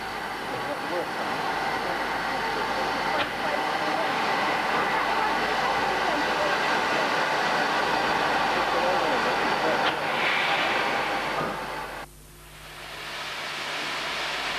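Steam railway Prairie tank locomotive number 5541, newly overhauled, running with a steady broad rumble and hiss that holds loud and fairly close, then cuts back abruptly near the end to a quieter low hum.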